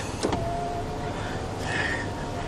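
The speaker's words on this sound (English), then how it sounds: "that window works" A power window on a 2008 Pontiac Torrent whirs briefly with a thin electric motor whine, close by and fairly quiet against a low background hum.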